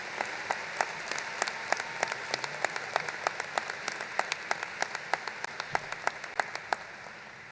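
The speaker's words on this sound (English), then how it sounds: "please join me in one more round of applause" Sustained audience applause at a Marshall University commencement ceremony, dense steady clapping from a large crowd in a hall with sharper individual claps standing out throughout, no voices.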